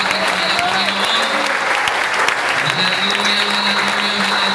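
A church congregation applauds during an anniversary service, a dense, steady wash of clapping from a crowd that continues for several seconds without letup.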